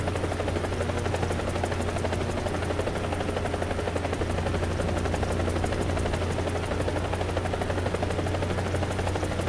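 Helicopter rotors in War Thunder thump in a fast, steady rhythm over a constant engine drone, loud and close throughout with no pauses.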